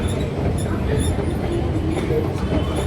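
A metro train rumbles and rolls steadily through a station, a continuous low mechanical roar with faint squeals, with people's voices faint in the background.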